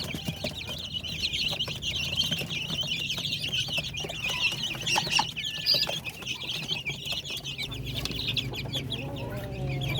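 Many chickens cluck and peep continuously at close range, with Darag chicks chirping and occasional wing flutters in a busy coop.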